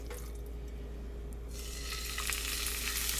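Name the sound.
seasoned chicken breast frying in olive oil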